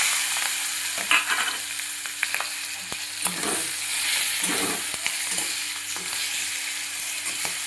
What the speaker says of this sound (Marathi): बघा, मस्त असं तेलात तळलेले आहे.